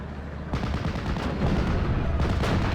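Anti-tank gun firing in Steel Division: Normandy 44, heavy booming reports over a constant rumble of battle, loud and close, with a second blast near the end.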